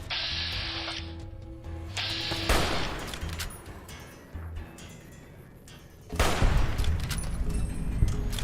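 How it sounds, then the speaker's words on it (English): Gunfire in Fallout: New Vegas (Honest Hearts DLC) crackles in bursts, with a heavy volley near the start and a louder burst of shots later, mixed with mechanical clatter and game ambience. "Who's shooting?"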